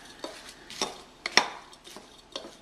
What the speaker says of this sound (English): Just mix them all together